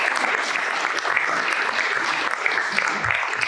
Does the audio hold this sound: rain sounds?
no